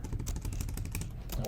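Quick, light keystrokes on a computer keyboard tap out a fast irregular patter, close and fairly quiet.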